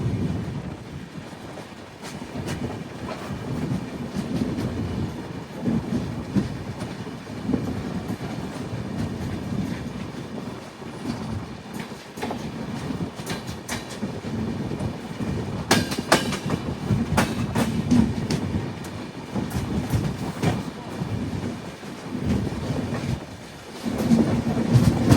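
A passenger train on the Visakhapatnam to Kurnool summer special runs along the rails near Markapuram Road, a loud, steady rumble with continuous clickety-clack of wheels over rail joints, heard from inside the coach with no talking.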